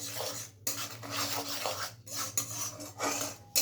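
Spoon scraping and clinking against a pan while spices are stirred into a mushroom masala, with bursts of rasping and rubbing separated by brief pauses, close up and alone.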